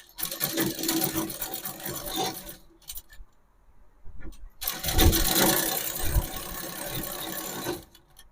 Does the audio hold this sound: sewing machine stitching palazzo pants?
yes